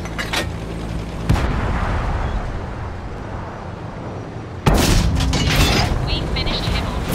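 Tank cannon fire in World of Tanks from a 45TP: two heavy booming shots several seconds apart, each a sharp loud blast with a rumbling tail and mechanical clatter after, with a voice speaking at points.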